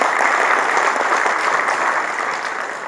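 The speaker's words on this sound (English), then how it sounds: "can we have a big round of applause for the time?" A large audience at a Bengaluru tech event breaks into loud, dense applause, an even roar of many hands that holds steady and then begins to taper off slightly.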